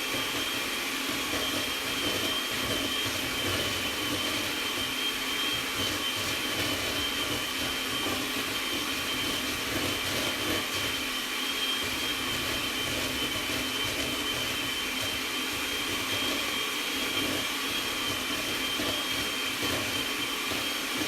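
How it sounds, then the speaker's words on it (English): An electric hand mixer creams sugar and butter, a loud, close, unbroken motor whine that holds steady for about twenty seconds with no voices. "I'm gonna mix the sugar and butter together"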